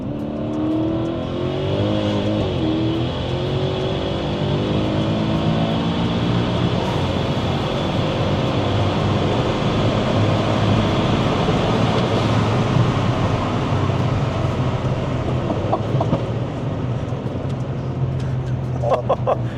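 A Mercedes C63S AMG engine, tuned past 1000 hp, drones steadily and loudly throughout, with a rising rev in the middle, heard from inside the cabin as the car drives.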